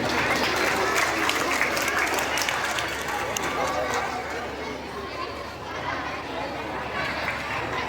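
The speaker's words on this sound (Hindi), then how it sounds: "मैं आग्रह एक बार जोरदार तालियों के साथ इनका स्वागत करूं।" A crowd of students and guests at a school Independence Day celebration applauds to welcome the school president, with steady, loud clapping mixed with crowd chatter and children's voices throughout.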